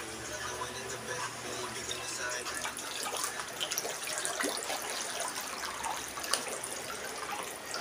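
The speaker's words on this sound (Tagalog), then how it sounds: "Pag binuksan ko yan, sobrang lakas ng agos niya." Water rushes strongly from a source during flooding in Naic, Cavite, a steady broadband gushing and splashing close by, with a person speaking over it.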